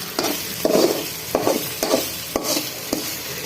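Whole spices crackle and sizzle in hot oil for a tempering poured over mango pickle, with a steady hiss broken by repeated clinks and scrapes of stirring.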